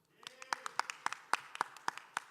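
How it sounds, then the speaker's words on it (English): Sparse applause from a conference audience on a Friday afternoon at a blockchain congress, a dozen or so distinct claps from just a few hands, faint and slightly distant. "a big applause to you"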